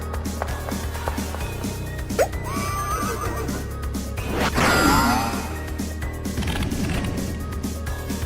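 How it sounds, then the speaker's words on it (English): Horse heads neigh during a Deltarune Chapter 3 attack in a video game, with several whinnies over clattering, thudding game effects. "I was making an attack with horse heads filled with flies."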